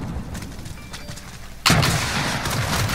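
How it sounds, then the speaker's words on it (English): A rocket launcher fires in a Call of Duty: Modern Warfare gun game match, one sudden loud blast midway over steady background game noise, followed by a lingering rumble. "The rocket launcher."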